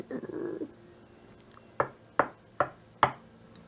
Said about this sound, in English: you hear a slight knock at your door